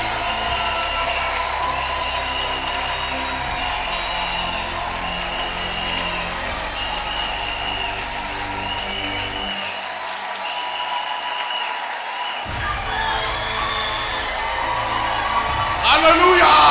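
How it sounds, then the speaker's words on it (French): A church congregation applauding and cheering at a pastoral academy event, with steady sustained clapping from a large crowd, a loudspeaker voice running over it and a swell of noise near the end. "Acclamons pour eux!"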